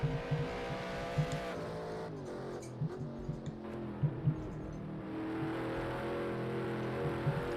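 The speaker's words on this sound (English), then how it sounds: "we can really hear the engine" Race car engine from a sim racing video game, heard trackside at Brands Hatch or Hockenheim as the leader laps, a steady droning whine with shifting pitch and occasional brief bursts, no talk.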